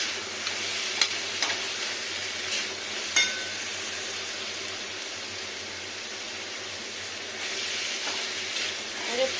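Steady hiss and sizzle of brinjal frying with salt in a pan, with a bay leaf, mustard, cumin and green chillies, carrying on evenly with a few small clinks and a swell near the end.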